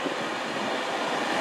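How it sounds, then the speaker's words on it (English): Virgin train pulling into Manchester Piccadilly station, a loud continuous rumble of wheels and carriages rolling close by, with no talk over it. "coming in now is the 12:23 Virgin train service to London Euston from Manchester Piccadilly"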